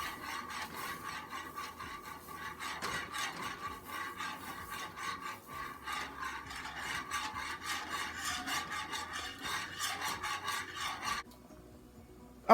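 Quick cooking grits are whisked into boiling water in a pot, giving a steady, close scraping and rasping of the whisk against the pot that runs on without a break and stops abruptly near the end.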